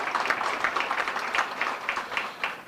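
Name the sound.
applause for steel pan player Adrian Clark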